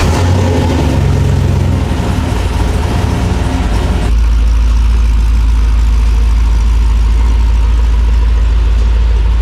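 A Toyota FJ40 fitted with new shock valving, heat shields and a winch, driven with a loud, close, steady engine drone whose low rumble deepens and evens out partway through, with no voices.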